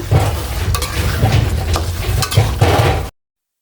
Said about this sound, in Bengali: নেড়ে নেড়ে দিচ্ছি তো আমার আচারটা হয়ে যাওয়ার মুখে